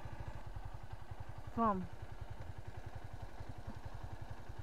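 A Honda Titan motorcycle idles steadily in neutral after a first-try kick start, its close, rapid low thumping running evenly throughout while a person briefly speaks over it.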